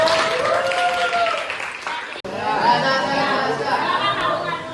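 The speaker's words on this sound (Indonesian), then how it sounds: "Tepuk tangan buat" Students in a high school biology classroom break into applause for a classmate, the clapping rising under lively chatter and voices, briefly dipping before the mix of claps and talk continues.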